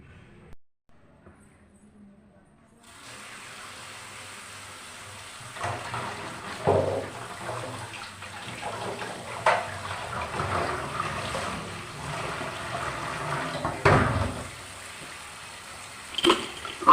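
Chopped taro leaves washed under a running tap, a steady close splash of water with bursts of handling and rinsing over it.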